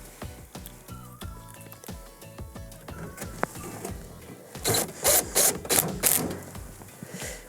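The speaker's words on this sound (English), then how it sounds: "We can now re-secure the interlock with the T10 screw we removed earlier." A T10 screw is driven back in to secure a door interlock on a Whirlpool microwave chassis, heard as close, small mechanical clicks and scraping followed by several short, louder bursts of driving or ratcheting.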